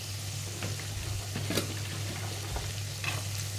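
Carrots sizzling as they fry in a pan with crushed pepper, a steady close hiss with a low hum beneath and a few scraping stir sounds.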